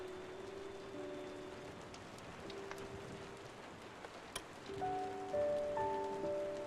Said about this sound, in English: Rain and fireplace sounds.